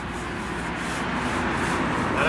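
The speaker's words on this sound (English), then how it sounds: "I brush it on like lightly so it lets some of that aggregate and the stone come through" A brush drags sealer lightly across a concrete surface with exposed aggregate and stone, a close, steady scrubbing rasp that grows slightly louder over a couple of seconds.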